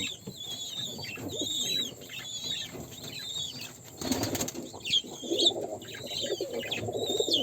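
A male and female pair of fantail pigeons coo softly, their low murmuring calls mixed with brief higher chirps and a moment of wing flutter, in a steady, fairly close scene with no talk.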